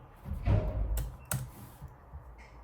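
A couple of sharp key presses on a computer keyboard, two distinct clicks close together against a quiet room, with no other typing around them.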